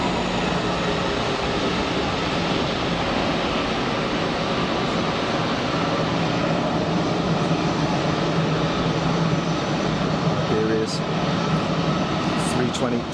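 An airliner taxis at Geneva Airport with a constant broad jet engine roar that holds steady throughout, heard from a spotting position at some distance.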